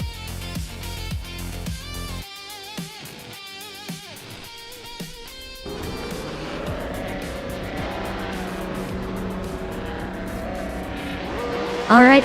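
Race cars, including a vintage 1969 Nissan R382, run at Anderstorp in a racing video game. Engines roar and shift continuously, tires squeal, and cars whoosh past up close, with a voice briefly talking over them.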